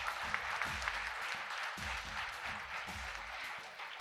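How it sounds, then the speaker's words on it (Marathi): An audience at a school alumni reunion event applauds the students, a steady patter of clapping from a moderate-sized crowd heard at a distance, fairly soft throughout. "सर्वांसाठी एकदा जोरदार टाळ्या होऊन जाऊ द्या."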